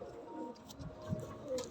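High-flying pigeons cooing softly in a loft, a few low faint coos amid quiet background noise.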